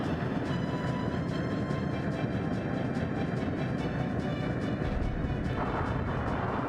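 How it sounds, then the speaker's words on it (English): Torpedoes fire during a battle in Skies of Arcadia Legends, a dense, continuous rumbling barrage of booms and blasts that stays loud throughout, with a sharper burst near the end and no voices. "Torpedoes!"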